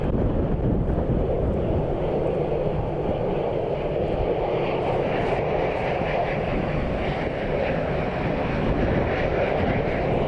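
A Turkish airliner lands on runway 26 at Dublin Airport during Storm Amy, a loud, continuous jet roar mixed with heavy wind buffeting on the microphone, with no voices.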